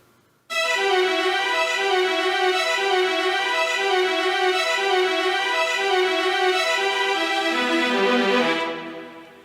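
Massed bowed strings, 16 violins and 10 violas in octaves, play smooth, connected runs, rising and falling in a continuous legato line before stopping and trailing off.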